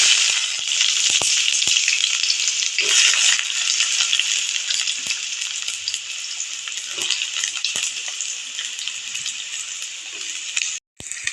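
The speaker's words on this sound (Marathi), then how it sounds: "कांदा आपण चांगला लाल होईपर्यंत भाजून घ्यायचा." Sliced onion fries in hot oil in a wok, a dense continuous sizzle with occasional stirring clinks and a brief break near the end.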